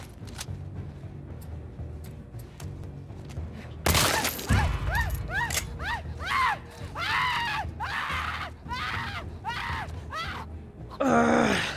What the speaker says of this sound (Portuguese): Tenso ouvir eles gritando.